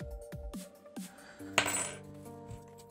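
A metal coin, a bent and worn find from a ploughed field, clinks and taps on a hard surface several times in a row, with sharp ringing metallic strikes and a louder clatter partway through.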